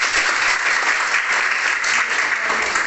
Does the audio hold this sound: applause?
yes